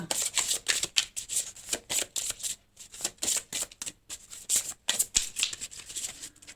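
Tarot cards being shuffled up close in a series of quick riffling, rustling bursts separated by short pauses, steady and moderately loud with no voices.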